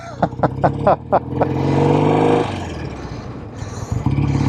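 A rare 1967 BSA Spitfire Special MkIII classic motorcycle engine gives a few sharp throttle blips, then revs up and pulls away steadily, loud and close.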